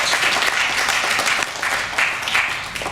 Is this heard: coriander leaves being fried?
no